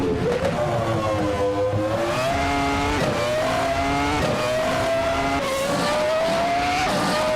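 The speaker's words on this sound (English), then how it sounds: "Amy and Scuderia Veloz are fighting hard for 13th." Race cars roaring around a track in a racing video game, several engines whining and rising in pitch together with tire squeal as they fight for position, loud and continuous throughout.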